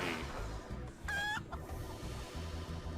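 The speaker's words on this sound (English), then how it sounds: "Thank you, Chicken, for congratulating me." A chicken in the video game Guacamelee! 2 gives a short burst of clucking near the middle, set over steady looping game music.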